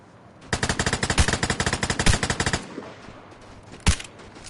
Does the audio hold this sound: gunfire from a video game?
yes